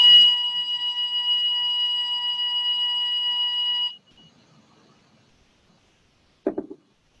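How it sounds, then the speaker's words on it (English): A scheduled fire alarm rings in a meeting room as a loud, steady electronic tone for about four seconds, then cuts off, leaving near silence broken by a brief low bump near the end. "That is a scheduled fire alarm, so I think we'll wait a couple of seconds."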